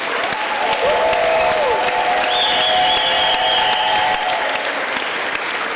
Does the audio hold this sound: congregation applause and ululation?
yes